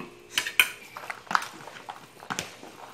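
Cooked beans are scraped into a bigger bowl in a home kitchen. Sharp metal-on-dish clinks and clatters come in a few irregular bursts, close and fairly faint, with no talking.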